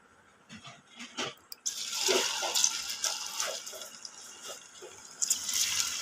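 Raw banana pieces coated in masala drop into hot oil, setting off a rising, hissing sizzle that holds steady and close after a few soft clatters at the start.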